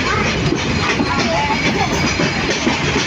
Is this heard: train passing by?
yes